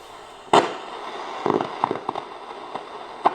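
Tuning a shortwave radio brings sharp crackles and scattered pops over a faint hiss, one loud burst followed by smaller irregular snaps.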